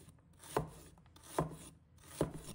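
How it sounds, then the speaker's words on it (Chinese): A knife chops fresh ginger into small pieces on a cutting board: three crisp, evenly spaced chops, close and fairly quiet, with nothing else in the background. "1块生姜，把它切成小块"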